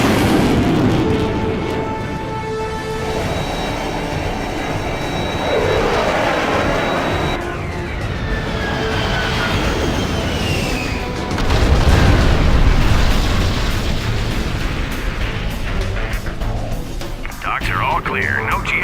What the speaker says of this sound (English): Launching airstrike